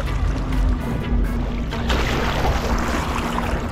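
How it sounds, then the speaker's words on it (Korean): Strong sea waves at Phi Phi Island, a loud continuous rush and wash of water close by, with no talk over it. "파도가 세다 여기는."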